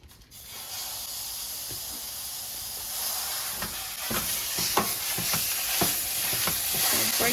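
Ground meat seasoned with taco seasoning, black pepper, garlic powder and onion powder sizzles loudly in a pan, a steady broadband frying hiss broken by scattered crackles and spatula scrapes, no voices.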